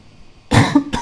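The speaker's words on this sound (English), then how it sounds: "Apologies for the cough." A single loud, close cough bursts out of near silence, followed by a second shorter cough, from a commentator casting an Onward VR match.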